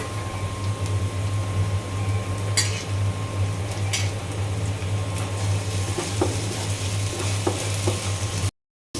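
Ginger, garlic and cumin paste frying with onions in a pan: a steady, even sizzle runs throughout, broken by a few sharp clinks and stirring scrapes, close and alone.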